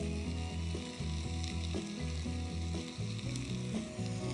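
Eggplant and zucchini frying in a pan with cooked garlic, a steady close sizzle with occasional stirring clicks, no voices.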